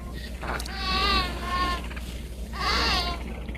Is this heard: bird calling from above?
no